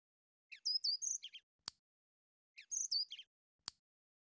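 Two short bursts of bird chirping from the 1998 children's game Sy med Castor, set around hanging laundry with clothespins, each followed by a sharp click, clear and close with silence between.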